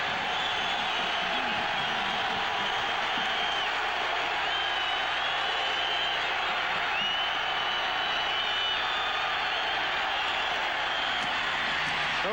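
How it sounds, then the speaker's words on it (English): Football stadium crowd in Lincoln during a 1998 Missouri-Nebraska game, a loud continuous roar of cheering and noise that fills the whole clip, with a commentator speaking over it. "Dave, what does the crowd noise do to an offense?"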